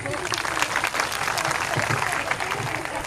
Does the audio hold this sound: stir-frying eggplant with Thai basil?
no